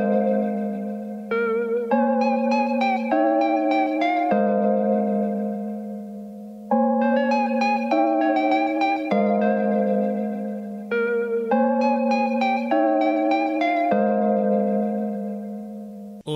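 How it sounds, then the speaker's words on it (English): A chill lo-fi music track runs through the Valhalla Supermassive reverb plugin, with sustained chords and bright melodic phrases that swell and fade in washy, repeating sections, with no talking. "I've put the Valhalla Supermassive on there as well"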